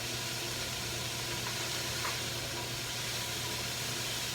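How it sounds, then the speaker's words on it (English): Sliced carrots hit a hot pan already holding celery for a chicken stew, giving a steady, even sizzle that stays level throughout with no voices over it. "Let me throw the carrots in"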